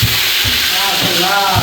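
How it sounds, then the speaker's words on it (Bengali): Meat pieces frying in a kadai in a student hostel kitchen give a loud, continuous sizzle with a few soft low thumps at regular intervals. "তো কড়াইটা এখন মাংসগুলো ছেড়ে দিচ্ছি,"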